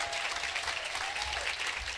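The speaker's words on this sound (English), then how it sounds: "Have a nice round of applause for Atheer." An audience at a comedy performance claps in steady, sustained applause, loud and close, with no voices standing out.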